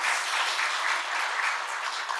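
Steady applause from attendees of a healthcare industry labor-management meeting, a brief burst of even, dense clapping heard close and alone.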